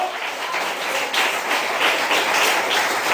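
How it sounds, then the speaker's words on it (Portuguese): Congregation applauding during a church service, a dense, continuous spatter of clapping hands that fills the room at a moderate level with no voices on top. "Palmas para o Senhor Jesus"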